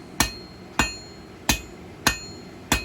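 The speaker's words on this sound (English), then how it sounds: "Notice I'm only working two sides of the steel, half face blows over the far edge of the anvil" Hammer blows forging 3/8-inch square steel on an anvil, five sharp ringing metallic strikes at an even, unhurried rhythm, close and loud with brief decays between them.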